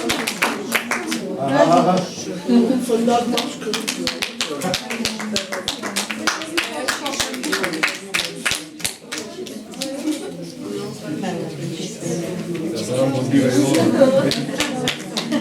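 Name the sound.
audience applause at a recitation contest award ceremony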